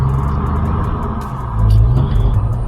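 A 2003 Ford Mustang SVT Cobra's supercharged four-valve V8 rumbles loudly nearby and swells into a deeper rev toward the end, with no speech over it.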